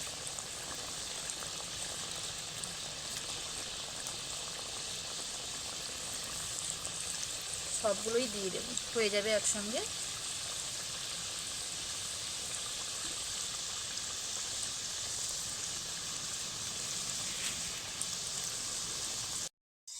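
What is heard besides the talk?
dough snacks frying in oil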